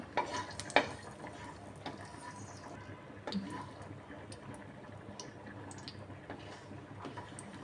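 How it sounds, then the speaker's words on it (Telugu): Cinnamon, cloves and cardamom fry in a few spoons of oil in a pan for tomato rice, a faint, steady sizzle broken by a few scraping stirs and light clinks of the spoon against the pan. "ఒక 2-3 స్పూన్స్ ఆయిల్ వేసుకొని తర్వాత చెక్క, లవంగాలు, 2 యాలకులు ఇవన్నీ బాగా వేయించుకోవాలి"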